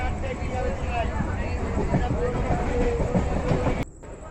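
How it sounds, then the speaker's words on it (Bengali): A passenger train runs on its rails on the way to Ranaghat, giving a steady, loud rumble and rail clatter that continues throughout, with muffled voices inside the carriage, then drops off abruptly near the end. "এই যে ট্রেনে চেপে বসলাম।"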